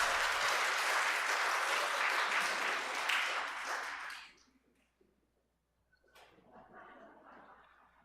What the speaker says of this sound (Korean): 우리 박수로 맞아주세요.